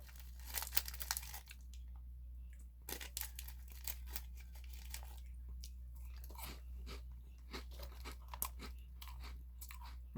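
A crunchy Grace cookie chewed close to the mic: a steady run of sharp, dry crunches and crackles with brief pauses between bites, and no talking.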